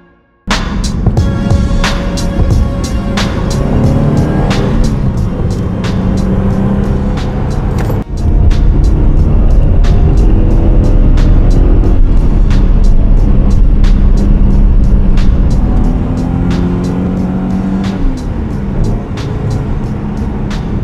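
A Subaru WRX wagon with a standalone engine management setup on a test drive, its engine loud and close from inside, revving up through repeated gear changes with rising and falling pitch.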